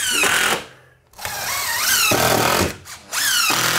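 Power drill driving 2.5 inch screws up into a ceiling for soundproofing, loud whining bursts of motor with rising pitch, two long runs broken by brief pauses.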